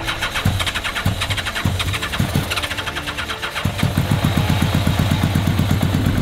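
A 37-year-old motorcycle engine cranks with rhythmic starter churning, stumbles through a few catches, then fires and settles into a fast, even idle, all close up.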